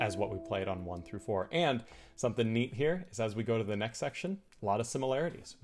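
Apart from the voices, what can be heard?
No everyday noises stand out.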